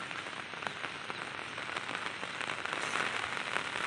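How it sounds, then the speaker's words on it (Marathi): Heavy monsoon downpour in the Konkan during a storm, a dense, steady hiss of rain pounding surfaces with no letup, loud and close throughout, no voices. "पाऊस पाऊस कसा पडतो ते बघा"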